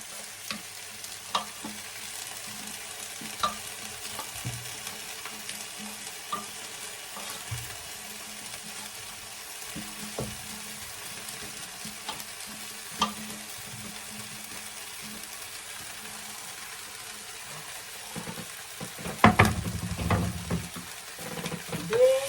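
Potatoes fry in a pan for a chicken curry with a quiet, steady sizzle, broken by occasional scrapes and clinks of a utensil stirring, and a louder clatter of stirring near the end.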